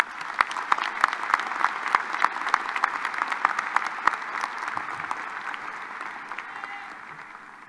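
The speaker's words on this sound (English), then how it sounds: "Please join me in a round of applause in recognition of our graduate students" A large audience applauds at a university commencement ceremony, steady dense clapping that carries on throughout and tapers off slightly toward the end.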